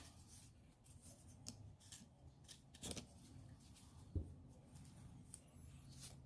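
Scissors snip through homemade denture material in several separate cuts with handling rubs in between, close and quiet, and no one speaks.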